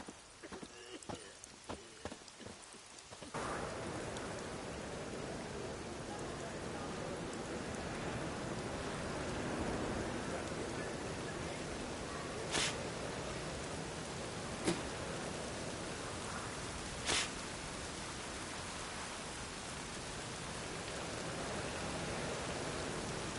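Steady rain falls in The Witcher 3: Hearts of Stone, a continuous soft hiss that holds evenly throughout, with a few clopping horse hooves at the start and occasional faint louder taps.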